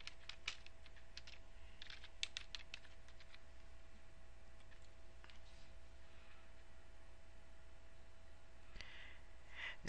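Quiet typing on a computer keyboard, a short burst of soft clicking keystrokes near the start followed by scattered taps over a steady low hum, faint and without voices.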